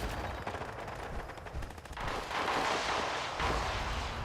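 Turret base gunfire in the video game Fallout 76, rapid automatic bursts rattling loud and close, with a dense crackling barrage swelling in the second half.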